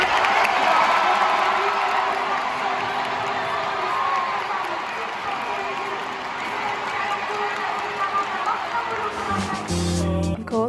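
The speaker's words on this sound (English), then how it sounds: "Check out how loud the crowd was." Loud crowd cheering and shouting at a 100 metre sprint race, a sustained roar of voices with whoops and applause that carries for about ten seconds before a brief shift in the noise near the end.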